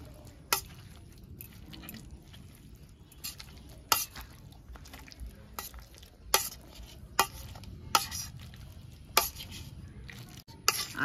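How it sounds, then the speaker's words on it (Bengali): Raw mangoes mashed with a masher in a pan for an oil-free raw mango chutney, with sugar melting nearby: a low steady sizzle under a string of sharp metallic knocks and scrapes spaced about a second apart, close and fairly quiet. "এবার আমি এই আমগুলো এইটা দিয়ে, এই ম্যাশারটা দিয়ে ম্যাশ করে নেবো।"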